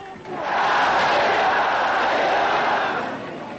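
A large revolutionary crowd in Iran roars and shouts together in one sustained, loud swell that rises quickly and tapers off at the end.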